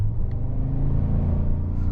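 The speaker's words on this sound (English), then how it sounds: "I wasn't expecting it to roar like it did" A 2023 Cadillac Escalade Sport Platinum ESV accelerates hard in slow traffic, its engine giving a loud, deep, sustained roar heard close up from inside the cabin.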